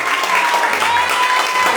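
A church congregation claps in sustained, dense applause, with voices mixed in beneath it.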